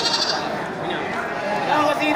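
Mini kacang goats bleat repeatedly at a busy livestock sale, the calls close and overlapping, with people talking throughout.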